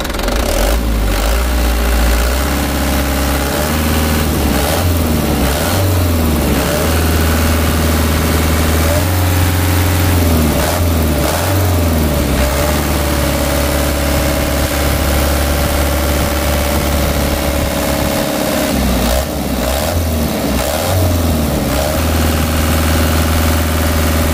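A Mitsubishi Canter truck diesel engine, just fitted with a new injection-pump plunger, is repeatedly revved and allowed to drop back to idle, loud and close, with several distinct throttle surges over a rumbling idle.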